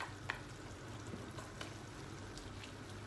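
Onions frying in a tagine, stirred now and then, give a steady low sizzle with a few faint scrapes and clicks throughout, no voices.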